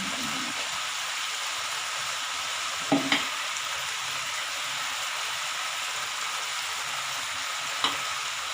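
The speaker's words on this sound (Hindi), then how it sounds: "अब अच्छी तरह मिक्स करेंगे इसे।" Spaghetti is stirred into chicken chow mein in a hot pan with a continuous loud sizzle, broken by a few brief clinks of the utensil.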